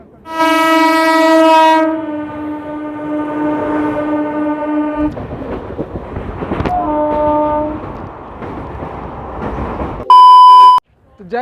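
A local passenger train's horn blares loudly and sustained on the Ranchi–Purulia line, followed by rumbling rail noise, another brief horn call, then a sharp electronic beep near the end.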